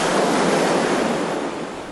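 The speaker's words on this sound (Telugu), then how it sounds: "ఆ అలల శబ్దం" Ocean waves wash onto a deserted beach in a loud, steady rush of surf that fades slightly toward the end, with no one speaking.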